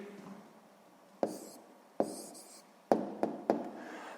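A pen or pencil writes down a sixth-grade maths answer on paper, giving several sharp taps and strokes at irregular intervals, close and fairly quiet with no talk.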